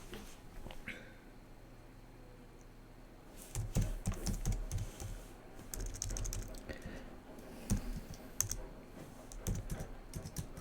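Computer keyboard typing, quick irregular clicks, quiet and sparse at first, then denser and louder bursts of keystrokes close by.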